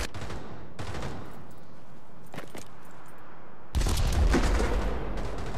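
A grenade goes off in Pavlov VR on PlayStation VR 2 with a sudden, loud, close blast and low rumble after a stretch of quieter gunfire pops, the boom sustaining to the end.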